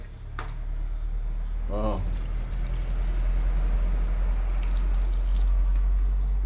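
Water from a watering can splashes onto potted snake plants indoors, a soft continuous pour under a low hum, with a brief voice near the start.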